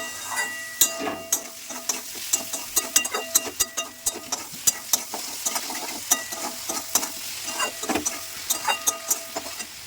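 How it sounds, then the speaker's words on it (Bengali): Masala sizzles and fries in a pan for a Bengali fish curry, with a spatula scraping and stirring in quick, irregular strokes close up throughout. "এবার এটাকে একটু আমি কষাতে থাকবো ভালো করে কষিয়ে নিয়ে"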